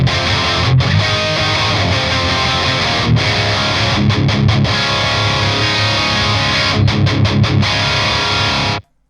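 An electric guitar played through a CHUG amp set to moderate crunchy gain, loud chugging riffs with rhythmic palm-muted stops and short gaps, cut off abruptly at the end.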